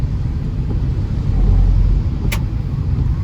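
Cars speed along a road in a steady low rumble of traffic that swells as a vehicle passes close, with a brief sharp click near the end.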